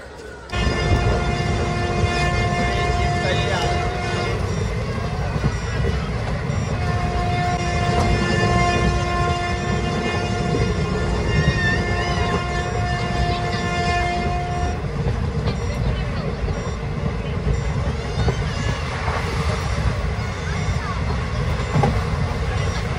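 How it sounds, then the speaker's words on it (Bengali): Kaviguru Express train pulling into Barhat junction, a steady loud rumble of rolling wagons with long sustained horn tones sounding in the middle, faint voices underneath. "আমাদের ট্রেন এখন এসে পৌঁছালো বড়হাট জংশন।"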